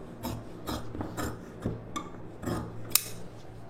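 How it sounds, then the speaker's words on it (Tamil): Scissors cutting fabric along a marked sleeve shape, a series of close, crisp snips and blade clicks in an uneven rhythm with faint rustling between cuts. "இப்போ வந்து இந்த ஷேப் அளவுக்கு அப்படியே கட் பண்ணி எடுத்துக்கலாம்."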